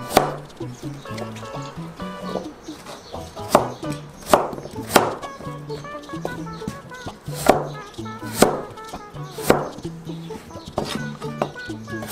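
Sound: knife chopping radish for kkakdugi

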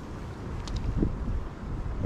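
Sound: wind blowing at lakeside bank

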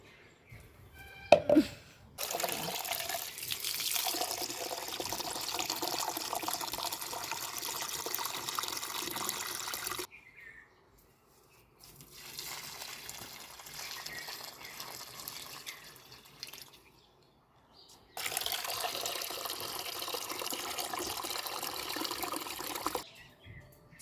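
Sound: watering plants

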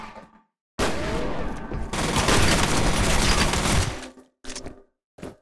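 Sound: shotgun gunfire in video game F.E.A.R

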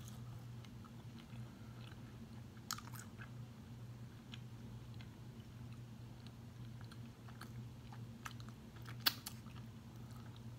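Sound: chewing salt and pepper chicken wings

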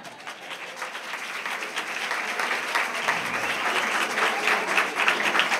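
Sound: applause for children, director and author

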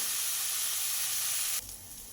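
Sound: susni saag greens frying in pan while stirred

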